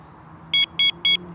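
A Mivardi M1350 wireless bite detector gives three short, evenly spaced high-pitched electronic beeps as it is switched on, close and clear over a faint background hum.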